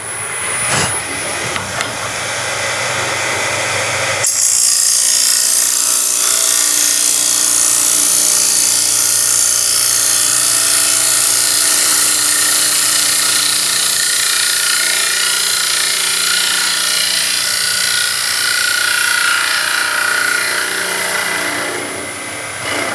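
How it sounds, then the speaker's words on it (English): Robert Sorby TurnMaster scraper cutting on a wood lathe, producing a loud, sustained whining roar with a steady hiss of cutting that holds continuously after a short quieter start. "although it's a scraper, it's cutting extremely efficiently, very, very well"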